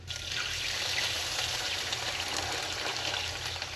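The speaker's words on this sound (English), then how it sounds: "So I'm gonna add the water now." Water is poured onto charring bones in a pot for bone broth, giving a steady trickling, hissing pour that stays soft and continuous for a few seconds with no voices.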